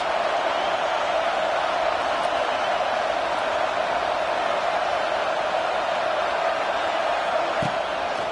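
Stadium crowd in the College Football 25 video game roars in a constant, dense wall of noise behind the defense on a big third down, with no break across the whole stretch.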